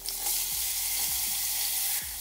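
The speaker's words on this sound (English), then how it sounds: "into the oil I'm adding the smashed up ginger and garlic, and it's a nice sizzling sound" Smashed ginger and garlic hit hot oil for a curry, giving a loud, steady hiss of frying throughout, with a few brief stirring clinks and no talking.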